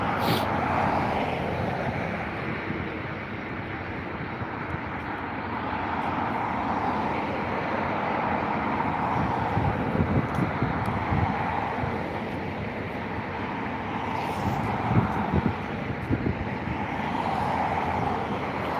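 An Aer Lingus A320-200 begins its takeoff roll at Dublin Airport, a broad, distant jet roar that holds steady and slowly swells and fades over many seconds, carried on an open-air, windy background.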